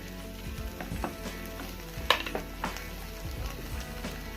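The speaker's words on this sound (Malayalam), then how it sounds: "ഇനി ഇത് നല്ലോണം മിക്സ് ചെയ്യണം." A spoon stirs chicken pasta sauce with tomato ketchup in a pan, scraping and clinking irregularly against the metal over a soft sizzle, with one sharper knock midway.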